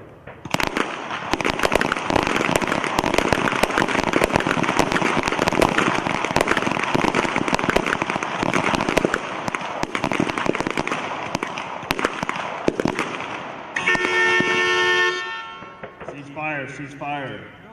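Pistol shots at a U.S. Army small arms championship match, a dense rapid barrage of sharp reports from many shooters firing at once on a range, followed by a shorter burst of ringing electronic tones.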